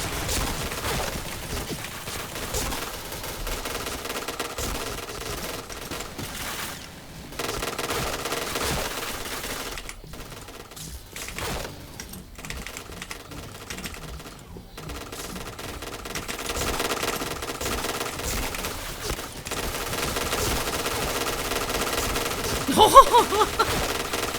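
Rapid gunfire from the Honey Badger rifle in a shooter video game, steady bursts running throughout with brief lulls and a sharper burst near the end.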